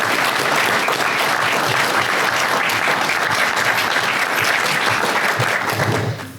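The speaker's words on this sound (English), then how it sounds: "let's give our candidates a round of applause" An audience applauds candidates at a public forum: dense, steady clapping from a full room for several seconds, loud and sustained before tapering at the very end, with no speech over it.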